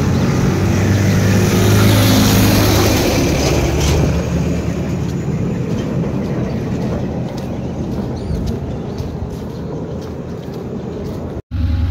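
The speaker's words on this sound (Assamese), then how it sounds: "এইফালে ট্ৰেইন এখন আহি আছে" A train approaching across a river bridge gives a loud, continuous low rumble and rolling roar that is strongest early and eases slightly over time, with wind buffeting close by and a brief dropout near the end.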